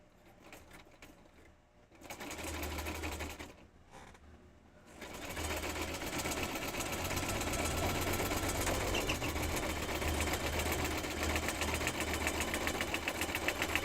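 A sewing machine stitches paper for scrapbooking, starting with short hesitant bursts and then settling into a long, steady, fairly loud hum with no speech.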